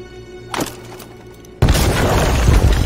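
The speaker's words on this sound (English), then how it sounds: "Oh, and with that, grenades." Grenade explosions in the video game Detroit: Become Human: one small thud comes first, then at about 1.6 s a loud, sustained roaring blast with broad rumble fills the rest of the clip.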